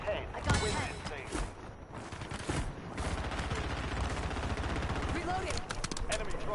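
Rapid automatic gunfire rattles through a console shooter match in sustained bursts with sharp single shots, loud and close, over a dense background of game noise.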